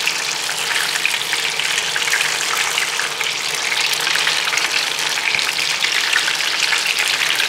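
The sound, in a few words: spring rolls deep frying in oil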